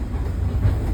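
Train cars behind a slow Shay steam locomotive roll along the rails at the Illinois Railway Museum, a steady low rumble with faint clatter, heard close from a riding caboose.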